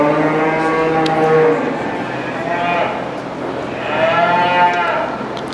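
Beef cattle at a 4-H fair show lowing in several long, drawn-out moos, loud and nearby, with murmuring voices of a crowd underneath.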